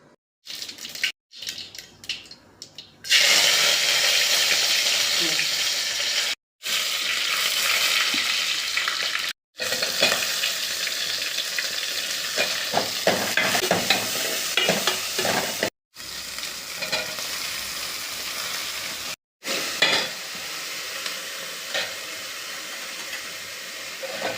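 Oil frying loudly in a pan while idli kurma is cooked, a close continuous sizzle with bursts of stirring and spattering, broken by a few brief gaps.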